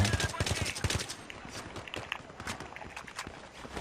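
Rapid bursts of AN-94 rifle fire from the video game Battlefield 3, dense repeated shots clustered in the first second then continuing more sparsely, with other game gunfire and clatter underneath.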